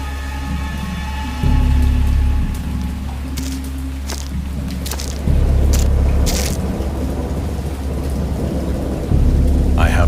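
Thunderstorm in the horror game Dagon: steady heavy rain with rolling thunder swelling in loud surges several times, no voices over it.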